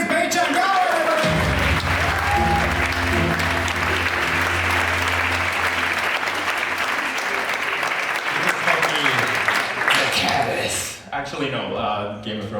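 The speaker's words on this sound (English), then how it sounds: "ladies and gentlemen, give him a round of applause" An audience claps loudly and steadily for a speaker at a science talk, the applause sustained for several seconds before tapering off near the end.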